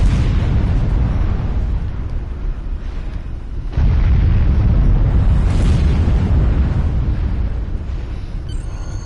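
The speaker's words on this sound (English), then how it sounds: "Much rather see outrunning all of these cool explosions." Deep rumbling explosions in Star Trek Online roll continuously, loud and booming with a sharp fresh blast partway through, no voices over them.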